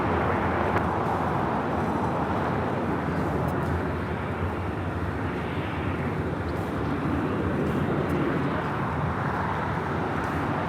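A Philippine Airlines Boeing 777-300ER takes off at LAX, a steady, loud broadband jet roar filling the whole stretch with little change in level, no voices over it.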